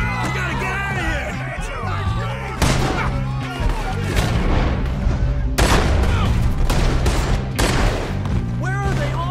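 Western shootout gunfire in Red Dead Redemption 2, with repeated loud rifle and pistol cracks and booming reports over a busy battle din, while voices shout in the background.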